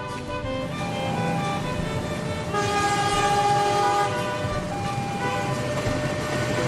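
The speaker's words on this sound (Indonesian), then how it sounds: "Jenisnya pun KRDE atau kereta rel diesel elektrik." The Prambanan Ekspress, an Indonesian diesel electric multiple-unit passenger train built by Inka from modified KRL BN Holec stock, rolls past loudly, its engine roar and wheel rumble building then holding steady, with a sustained horn-like tone during the closest stretch.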